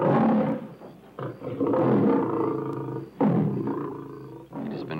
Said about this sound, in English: Suddenly, the stillness is interrupted by a thunderous roar.